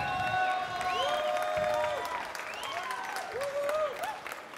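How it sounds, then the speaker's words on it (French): Loud applause and cheering from a crowd at a coffee championship final, many hands clapping steadily while gliding whistles and whoops ring out above. "Un tonnerre d'applaudissements."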